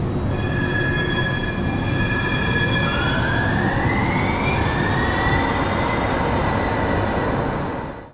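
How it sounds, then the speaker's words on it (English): A San Francisco Muni Metro train pulls away from a subway station with a steady rumble and high squealing wheel tones that rise and shift in pitch, loud and continuous until it fades at the end. "where we watch our train pull away."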